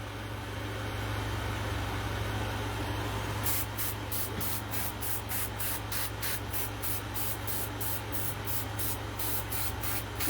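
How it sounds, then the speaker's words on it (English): Airbrush spot-spraying paint onto a latex Jason Voorhees mask, a steady hiss over a low compressor hum, breaking into a rapid run of short even spray bursts partway through. "just spot spraying all different areas and different colors to get his skin to look mottled and broken out"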